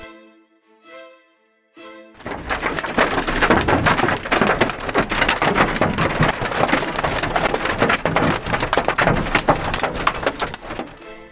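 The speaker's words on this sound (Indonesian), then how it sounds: "Hujan es parah di Italia." Severe hailstorm in Italy, a dense, loud roar of hailstones pelting surfaces that starts abruptly after a brief tonal passage and continues steadily.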